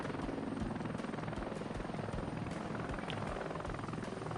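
A Black Hawk helicopter in a video game flies low with a steady, loud rotor thrum and engine whine that carry through the whole stretch without a break.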